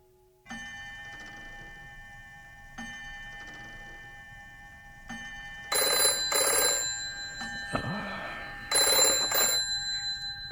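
A telephone bell rings in repeated bursts, loud and close, with sustained metallic tones and sharp strikes of the bell in regular cycles through the stretch.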